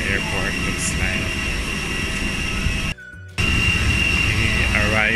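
A jet airliner at Luang Prabang International Airport in Laos roars steadily and loudly with a broad engine rush, briefly cut out for a moment midway before resuming.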